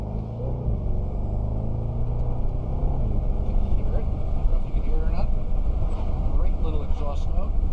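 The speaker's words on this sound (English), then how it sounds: "Exhaust note," A 2021 Bentley Continental GT V8 coupe gives a low, steady exhaust burble from the cabin with the window down, a deep rumbling drone under someone talking.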